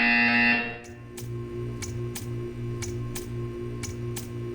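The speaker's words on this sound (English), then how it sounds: "When you hear the buzzer, stare at the art." A low electronic test chamber buzzer from the video game Portal 2 pulses in a steady repeating rhythm, each beat marked by a sharp click, droning on after a brief synthetic tone.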